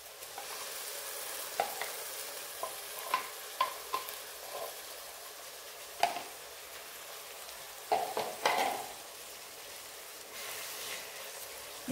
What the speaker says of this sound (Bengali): এখানে আমি এবার টমেটোটা দেব। টমেটোটাও আমাকে একটু ভেজে নিতে হবে, কাঁচা ভাব কাটিয়ে নিতে হবে।